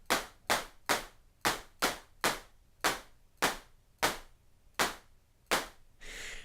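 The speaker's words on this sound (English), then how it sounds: "it sounds like a clap" A synthesized clap sound with added noise repeats about a dozen times in a steady rhythm, each sharp, bright hit decaying quickly, alone and clear.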